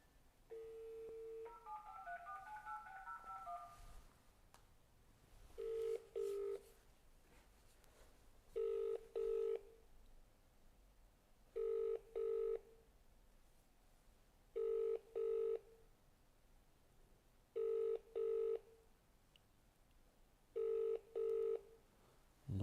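A telephone rings repeatedly in short double bursts with pauses between, after a brief warbling tone at the start; no voices.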